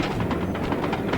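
A train rushes past in the Sly 2 video game, a dense, steady rumbling roar with rhythmic clatter filling the short moment at high volume.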